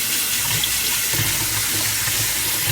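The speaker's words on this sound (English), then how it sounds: "right away I put some cold water in it" Cold water pours from a kitchen tap into a pot, a loud steady rushing stream close by with no talking.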